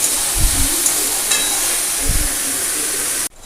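Steady, loud sizzling of hilsa fish heads frying in a pan, with a couple of low knocks as they're stirred, ending abruptly.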